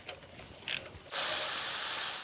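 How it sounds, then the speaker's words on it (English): An electric ratchet working a 13 mm bolt during an alternator replacement on a 2002-2007 Jeep Liberty: a brief mechanical burst, then a loud, steady, close-up whirring buzz that runs for over a second. "Finish it up with my electric ratchet."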